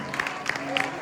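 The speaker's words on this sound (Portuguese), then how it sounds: "Você poderia dar uma salva de palmas para o Senhor?" Brief burst of church congregation applause, fairly faint and mixed with a voice speaking over it.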